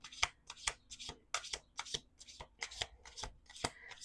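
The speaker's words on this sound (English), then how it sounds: "2 more shuffles." A deck of tarot cards is riffled and shuffled repeatedly at close range, giving quick papery flutters and soft slaps in an irregular rhythm with no talk.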